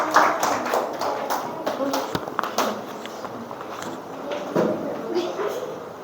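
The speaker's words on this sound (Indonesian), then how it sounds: "Tepuk tangan untuk kelompok 4." Classroom of students clapping for a presenting group, a scattered burst of hand claps with sharp taps across the room, blended with background chatter and movement noise.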